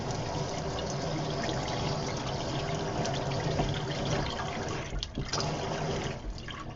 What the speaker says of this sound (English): we've got our water turned back on and we're ready to try it out